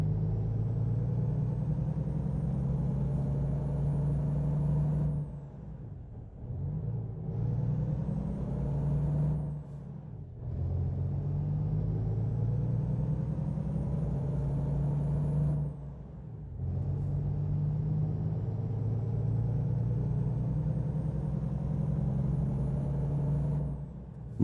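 A heavily underpowered truck in American Truck Simulator labors up a steep grade, its deep engine drone steady and loud, broken by three short dips where gear changes interrupt the strain.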